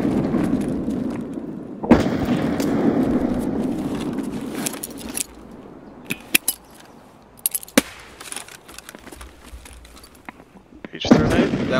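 A grenade detonates in a first-person shooter match, a sharp broadband burst near the start followed by rumbling noise and a few later impact cracks, with another loud burst near the end.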